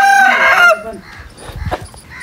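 A rooster crows once, loud and close, a bright drawn-out call followed by a few softer clucks and rustling.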